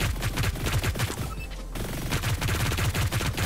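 A rapid-fire weapon in Hyper Scape shoots a continuous stream of close, punchy shots at a fast, even rhythm, with a brief lull midway before the firing resumes.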